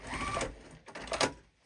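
A sewing machine running a short back stitch on a quilted table runner, two brief whirring runs separated by a pause, close and moderately loud.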